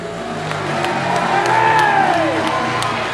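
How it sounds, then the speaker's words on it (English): A speedway crowd cheers and whoops as riders celebrate with donuts, a steady broad roar with a motorcycle engine note rising and falling across it and a commentator talking over the top. "The crowd loving it."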